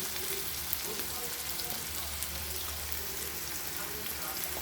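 Eggs frying in a pan, a continuous crackling sizzle that holds steady throughout with a low hum beneath, no voice over it.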